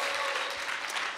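A church congregation gives a round of applause praising Jesus, a dense, steady wash of many hands clapping together, filling the room with no other sound on top.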